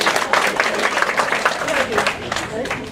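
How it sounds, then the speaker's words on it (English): A crowd at a heart-health nutrition talk applauds, steady clapping mixed with people talking over it, fairly loud and close. "Give yourselves a round of applause."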